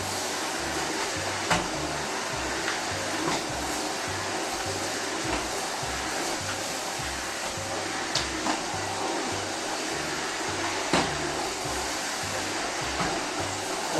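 A Philips Marathon and an Arçelik 4540 vacuum cleaner run side by side, making a steady, loud whirring drone that holds throughout, with a low rhythmic pulsing underneath and a few brief clicks.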